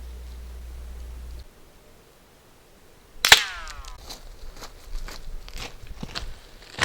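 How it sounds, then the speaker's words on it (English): One sharp, loud rifle shot cracks out while a Discoveryopt LHT 3-12x42 SFIR FFP scope is being tested, followed by faint ringing and outdoor rustling. "Then when you shoot again, it should be dead on."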